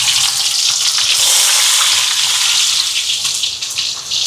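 Onion and green chilli sautéing in a pan with mustard seeds and fennel for a chicken curry, giving a steady close sizzle and crackle that runs throughout with no talking.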